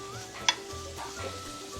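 Fish cakes stir-fried in sesame oil over high heat with green onion and chili, giving a steady close sizzle with stirring scrapes and one sharp utensil click near the start.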